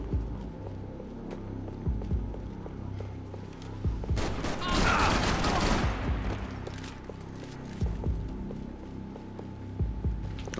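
Dual pistols firing in the action video game Max Payne 3, a dense burst of gunfire around the middle of the clip over game sounds, with scattered shots before and after.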